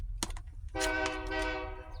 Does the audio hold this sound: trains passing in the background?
yes